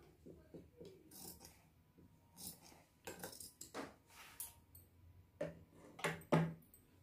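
Scissors snip through cloth for a blouse hook strip in a quiet room, giving a few faint crisp cuts with light metallic clicks in uneven bursts.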